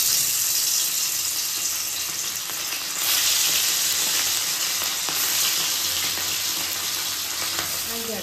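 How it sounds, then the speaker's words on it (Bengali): Salted, turmeric-coated puti fish fry in hot oil, giving a steady, loud, broadband sizzle that runs unbroken with no talk. "এইদিকে তেল গরম হয়ে গেছে, এবার মাছগুলো এক এক করে ভেজে নেব।"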